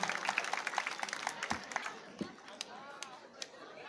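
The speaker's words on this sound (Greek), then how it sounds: "Εδώ θέλει περισσότερο χειροκρότημα" Scattered audience clapping at an event of the Kozani blood donors' association, fairly faint and uneven, thinning out as it goes, with people chattering underneath.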